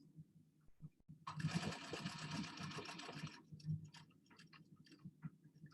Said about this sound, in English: I'm stitching right on my hand basted line on my dart. I'm gonna stitch to the apex.